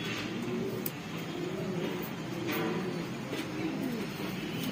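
Pigeons of the Saharanpuri crested cross breed coo softly and continuously in a loft, a low murmuring throughout with faint background noise.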